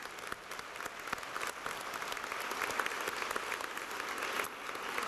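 An audience applauds at a community college commencement ceremony, a sustained, fairly faint wash of many hands clapping that holds steady throughout, heard from a distance without speech.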